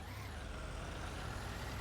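A slightly bigger fire truck in a video game rumbles with a steady, loud low engine drone, a constant vehicle hum throughout with no clear separate brake hiss.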